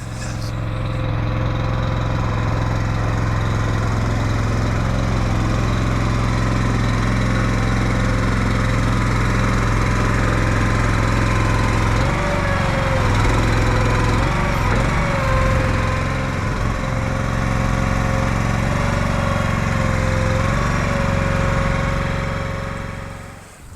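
A Split Force 11/16-ton log splitter's small engine drones steadily and loudly throughout, with a constant low hum and some irregular mechanical rattling near the middle.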